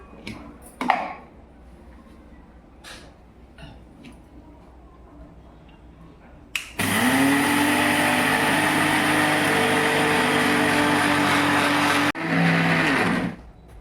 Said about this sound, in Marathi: आता आपण सगळ्यात पहिलं साखर बारीक करू